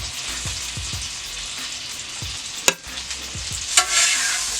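Peppers sizzling and frying in a pan with minced garlic, a steady close hiss of hot oil with repeated scraping stirs and a couple of sharp clatters as the food is moved around.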